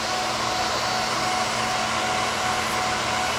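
An electric nail drill spinning at 30,000 RPM files through gel top coat and two coats of color, giving a steady, close, even high whir that holds without a break.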